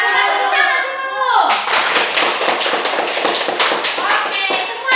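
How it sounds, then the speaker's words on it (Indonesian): Schoolchildren in a classroom break into a burst of rhythmic hand clapping, close and loud, with a teacher's voice and the children's voices just before and sometimes over it. "Coba tepuk tangan dulu."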